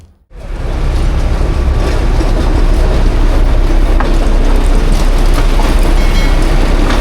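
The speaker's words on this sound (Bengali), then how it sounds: "যখন টয় ট্রেন যাবে তখন আপনারা কিন্তু ঘরে বসেই টয় ট্রেনটা দেখতে পাবেন" A small toy train in Kurseong rumbles past close by, a steady loud clatter of wheels that starts abruptly and continues unbroken.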